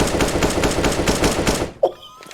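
Rapid automatic gunfire crackles in an esports match, a steady close rattle of evenly spaced shots that stops abruptly and is followed by a brief sharp sound, with little talk over it.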